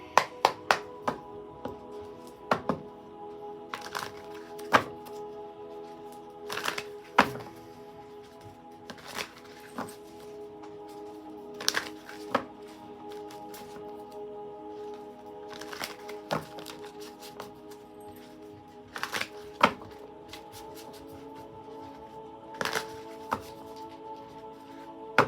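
Tarot cards are shuffled in repeated bursts of riffling and crisp slapping taps, close and fairly quiet, with short pauses between the shuffles and no talking.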